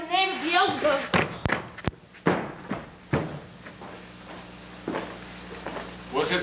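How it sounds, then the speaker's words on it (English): Sharp wooden knocks on a stage door during a theatre performance of Macbeth, a cluster of loud single raps spaced irregularly, with spoken lines from an actor over and between them. "I hear a knocking at the south entry."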